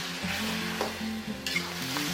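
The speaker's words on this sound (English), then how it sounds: "Add Prima taste fried Hokkien prawn noodle complete sauce into the wok. Stir to mix well." Steady frying sizzle fills the clip while Hokkien prawn noodles and sauce are stirred and scraped in a hot wok, with no talking.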